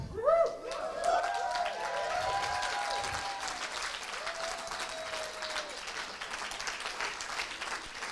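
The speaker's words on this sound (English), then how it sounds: "give them a round of applause. You beat me to it." An audience applauds a fire team, a full burst of clapping that starts loud, carries on steadily and thins out toward the end, with a faint voice heard over it.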